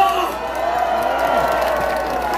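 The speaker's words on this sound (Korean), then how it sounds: "박수!" Crowd at a presidential campaign rally in Seosan and Taean, South Korea, clapping and cheering, a steady dense wash of applause and shouts with some voices rising through it, loud and continuous throughout.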